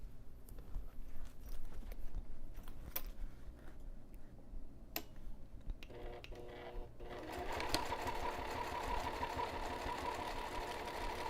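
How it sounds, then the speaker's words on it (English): A sewing machine top stitches along the edge of fabric binding, with a few scattered ticks and handling noises at first, then a steady, close mechanical whirr that runs to the end. "I'm going to take this back over to the sewing machine, and I'm going to top stitch the top edge of the binding now"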